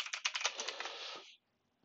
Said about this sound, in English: to do this, I'm typing question mark